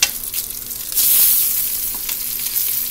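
Bacon strips sizzle loudly in a hot pan, a constant crackling hiss broken by a few soft knocks and a surge of spitting as the pieces are turned over.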